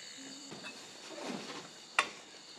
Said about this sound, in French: Et c'est quoi ce bruit-là? Les cigales?